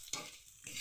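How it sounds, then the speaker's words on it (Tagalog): Squid balls frying with sautéed garlic and onion in a pan, faint sizzling broken by scraping stirs at the start and end, no voices. "Medyo prito natin."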